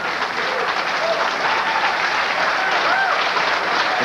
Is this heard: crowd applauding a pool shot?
yes